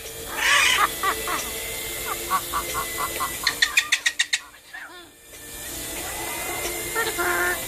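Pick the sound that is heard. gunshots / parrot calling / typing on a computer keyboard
parrot calling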